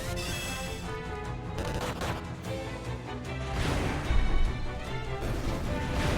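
Enemies blowing up during a battle in Final Fantasy II Pixel Remaster on PC. A dense, loud barrage of crackling blasts and crashing booms runs throughout, swelling toward the end, with no voices.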